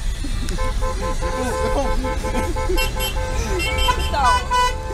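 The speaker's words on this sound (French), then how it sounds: "on est la voiture qui klaxonne et qui regarde partout" Car horn beeping amid traffic at a motorway toll booth in France, several short honks and toots over a steady road rumble, with people talking inside the car throughout.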